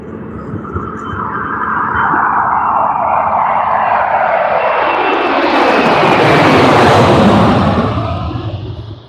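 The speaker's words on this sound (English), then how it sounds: "Pretty quiet for an old A300 now. With a full power takeoff." An old Airbus A300 jet takes off at full power from an airport in the morning, its roar swelling from distant rumble to a loud, broad peak as it passes, then starting to fade, with no voices.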